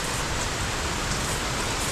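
Heavy rain pours down in a steady, even hiss of countless drops striking surfaces, moderately loud and unbroken across the short stretch, with no voices.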